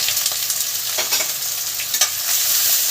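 Onions fry in hot oil in a wok (kadai) with whole garam masala for mutton biryani, giving a loud, steady sizzle close up with small crackles and stirring scrapes and no talking.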